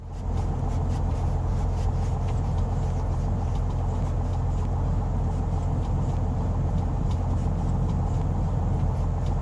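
A Cessna T182T in Microsoft Flight Simulator taxis with its engine running, giving a steady, low, droning rumble at constant loudness throughout, close and unbroken, with no voices.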